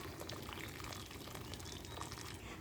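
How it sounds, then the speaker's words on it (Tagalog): Hot water splashes into a pot of pancit bihon noodles being cooked with sardines, a faint, steady gush and bubbling wash that keeps going at an even level with no talking. "sasabawan ko siya ng mainit na tubig para mabilis na siyang maluto"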